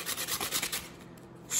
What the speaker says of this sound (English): This is where you get the most uniform sanding, twisting the whole thing, of course.